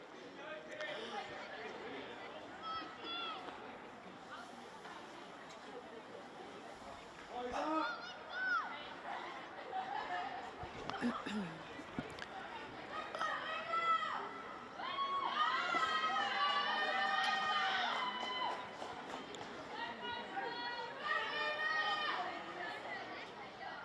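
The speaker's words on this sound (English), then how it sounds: "It's a good crowd building here at English Park on this crisp evening" Crowd gathering at English Park on a crisp evening for a women's football cup final, a distant murmur of chatter with scattered shouts and children's calls, swelling louder toward the end, commentary voice over it.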